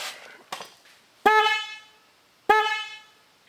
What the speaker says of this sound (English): now we know what one horn sounds like